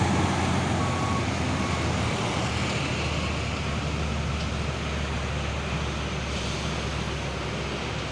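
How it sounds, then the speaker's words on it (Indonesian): A Mitsubishi Fuso 6x2 truck rated at 220 PS drives along a road in Indonesia, its engine rumbling under continuous loud road and traffic noise with no talk. "Dan ini ada satu unit truk Fuso 6x2 220 PS."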